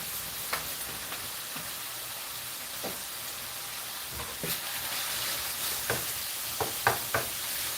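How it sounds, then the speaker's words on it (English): Garlic and dried onions stirred in a hot frying pan for tacos give a steady sizzle, with scattered scraping strokes that grow more frequent toward the end. "I'm going to stir this up like this."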